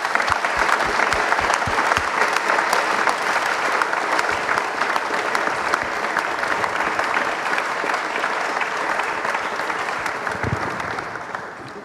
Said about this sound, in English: if we could just have another round of applause for our panelists